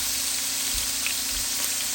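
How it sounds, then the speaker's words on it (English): Pieces of beef for an Irish beef stew sizzle steadily in a hot pan, a constant close frying hiss with a few soft low bumps as the meat is moved. "Let's just sear. Each piece needs to be seared."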